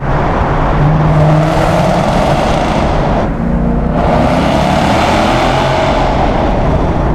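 A supercharged 670 hp 2017 Ford Mustang roars loudly and steadily through the Waterview Tunnel, its engine note echoing off the walls, with one brief dip partway through.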